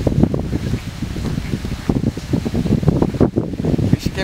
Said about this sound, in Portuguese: Não tá igual da última vez o vento, mas tá